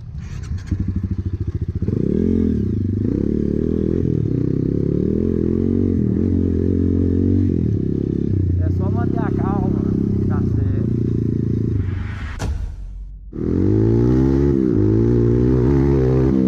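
Honda CRF 230 dirt bike descending a steep hill trail under engine braking, its engine note loud and continuous with clattering and scraping, briefly cutting out near the end before picking up again; someone talks over it.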